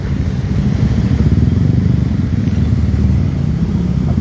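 A motorcycle engine runs close by and loud as the bike is pushed through knee-deep flood water under the Malolos Crossing in Bulacan during a storm, a continuous rough, throbbing drone with slight clatter and no break.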